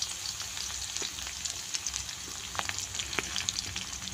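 Garlic crushed by hand fries in hot oil with a steady, fairly soft hiss and crackle, small pops and scrapes dotted through it, and no voices.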